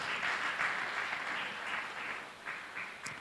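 A church congregation at a Sunday service claps together, a continuous, moderately faint wash of many hands with a few brief swells, heard from some distance in a reverberant room.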